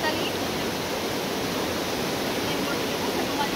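Steady rushing river water flows without a break, a dense broadband wash like a small waterfall close by.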